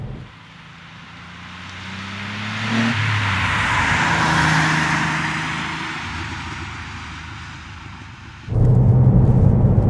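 A 1993 Porsche 964 3.6 Turbo drives on the road, engine rising and falling through gear changes with a swelling rushing roar, then a louder surge of throttle near the end, no talk.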